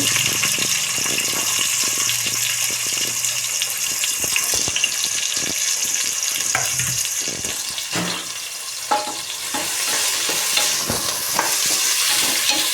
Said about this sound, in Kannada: ಈರುಳ್ಳಿ ಸ್ವಲ್ಪ ಕಲರ್ ಚೇಂಜ್ ಆಗೋವರೆಗೂ ಫ್ರೈ ಮಾಡ್ಕೋಬೇಕು